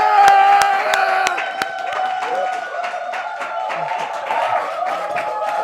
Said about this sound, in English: please a round of applause for Senator Shehu Sani in the building!